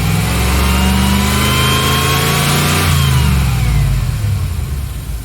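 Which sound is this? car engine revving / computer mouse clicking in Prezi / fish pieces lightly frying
car engine revving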